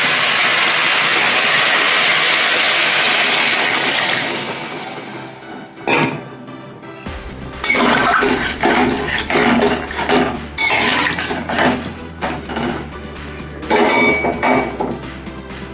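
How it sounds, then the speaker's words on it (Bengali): Water is poured into a cooking pot of fried spiced masala, making a loud, steady rushing hiss for several seconds that fades out, followed by repeated clanks and knocks of the pot and utensils. "দেখো বন্ধুরা জল দিয়ে দিলাম"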